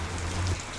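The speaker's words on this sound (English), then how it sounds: "I love making this video when it's raining." Steady rain falling outdoors, a continuous even hiss of drops with no distinct pattern and no talking.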